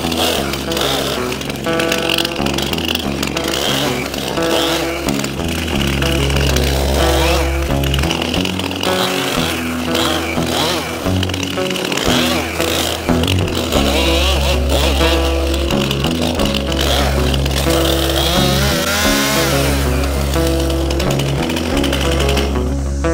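A metal-bladed Sawzall cuts a tree portion in a workshop, giving a steady, loud reciprocating buzz that drones continuously with slight shifts in pitch and load throughout.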